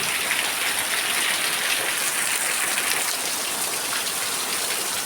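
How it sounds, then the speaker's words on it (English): Steady rain falling on a rainy day, a bright, continuous hiss of drops on surfaces with a faint gushing undertone, fairly close and uninterrupted by any voices. "why is it raining so much?"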